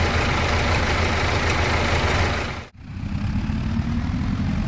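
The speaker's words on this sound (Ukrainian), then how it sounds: "Зажину тоді трактора в гараж поставлю." Tractor engine in the Farming Simulator 25 game idling with a steady low rumble that briefly cuts out, then resumes as the machine is driven into a garage, loud and close with no talk.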